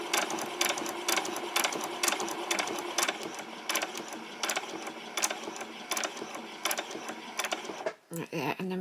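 A sewing machine stitches white fabric for a summer top in a long, close, continuous run with rapid needle clatter and regular clicks, pausing briefly near the end before starting again.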